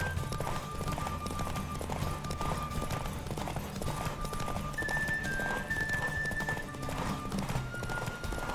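A horse gallops in a Witcher 3: Wild Hunt race, with rapid continuous hoofbeats and occasional whinnies layered over game music and faint voices.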